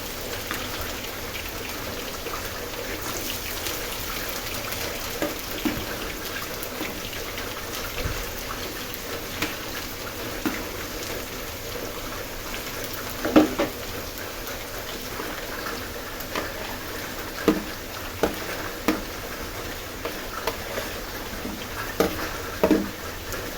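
Jackfruit pieces fry in hot oil with a soft, steady crackle and patter that continues throughout, punctuated by occasional sharper pops, heard up close without talk.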